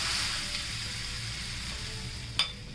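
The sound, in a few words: hot oil tempering poured over onions, sizzling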